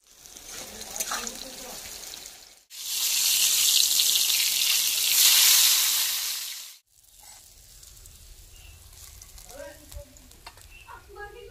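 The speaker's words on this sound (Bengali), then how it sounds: "আলু ভাজা হয়ে গেছে, এবার নামিয়ে নেব।" Potatoes frying in a pan, a loud steady hissing sizzle that starts abruptly and cuts off after a few seconds, framed by quieter kitchen clatter and faint sizzling before and after.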